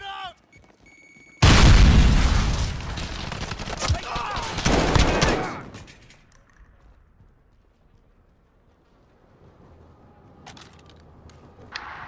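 A loud grenade blast in Call of Duty Modern Warfare erupts with a burst of rapid gunfire and booming impacts for several seconds, then fades to quiet game noise, with players talking before and after.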